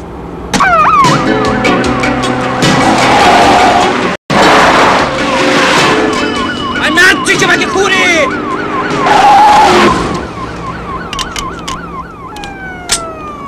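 A police car siren wails, sweeping up and down repeatedly over engine roar and tire noise, loud and close, with a short dropout midway.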